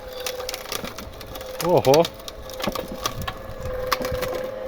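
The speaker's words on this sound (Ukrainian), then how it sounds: "Ну, Моторчик чую нагрузку бере." An electric-motor-driven auger wood chipper shreds bushy branches with its motor under load, giving a continuous close crackling, splintering grind. A short spoken exclamation rises briefly over it.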